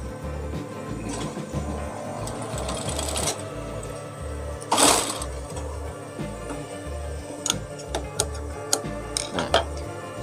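A sewing machine stitching a gamis dress, its motor running in short, steady rhythmic bursts with light clicks and handling noises in between, close up and with no talk.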